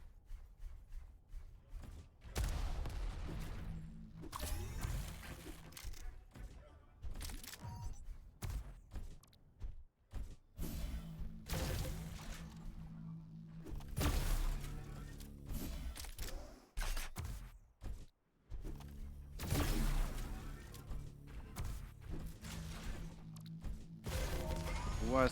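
Competitive Diabotical duel match with repeated rocket launcher fire, blasts and impact thuds in rapid bursts, dense and loud throughout amid continuous game action, with caster commentary running over the top.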